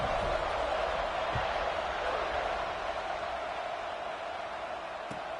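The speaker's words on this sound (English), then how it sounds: "this crowd is feeling themselves after that last drive" A football stadium crowd roars in a steady, dense wash of cheering throughout, loud and continuous with no pauses, filling the whole space as a distant, broad sound.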